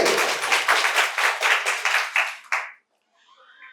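An audience claps loudly at a quiz competition held at Santiniketan Medical College and Hospital, a dense burst of applause lasting under three seconds before stopping abruptly.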